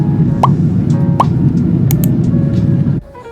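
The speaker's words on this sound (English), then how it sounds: "I'm going to add sound effects according to when the message pops up" Pop sound effects added in a video edit for on-screen message elements: a few short, bright plops spaced around a second apart over a steady background bed of music and ambience that drops away near the end.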